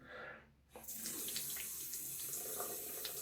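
A Japanese kamisori straight razor is rinsed under a running tap after shaving; after a short quiet pause, the water gushes steadily and loudly into the sink, with small splashes as the blade moves through the stream.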